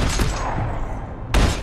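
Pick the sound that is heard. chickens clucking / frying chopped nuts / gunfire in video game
gunfire in video game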